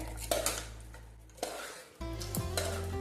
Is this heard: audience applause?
no